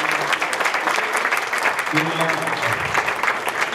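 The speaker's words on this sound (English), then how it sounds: "give all these people a nice hand clap to put this thing together tonight" Audience at a public library comedy evening claps steadily for volunteers, sustained hand clapping with a voice speaking briefly over it.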